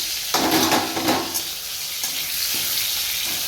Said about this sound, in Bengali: আর এখানে হচ্ছে আলু পটল ভাজা